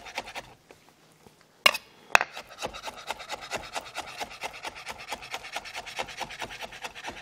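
Knife finely mincing jalapeño on a cutting board in a kitchen: rapid, regular chopping taps with a scraping texture, close and moderately loud, running steadily after a couple of sharper knocks.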